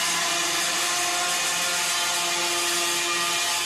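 Shipyard workshop at Rosetti Marino in Italy, where offshore platforms are built, fills the clip with a loud, steady industrial din of humming machinery and power tools. It runs continuously with no talking.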